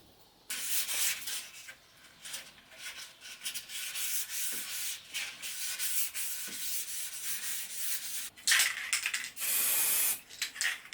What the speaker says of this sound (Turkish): Şimdi zımparaya başlayalım.